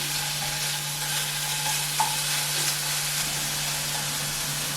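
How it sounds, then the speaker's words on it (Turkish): Meat frying over high heat in a pan while being stirred for the Korean dish japchae, a steady close sizzle and hiss with a few soft utensil clinks, no talking. "Ve yüksek ateşte pişiriyorum eti."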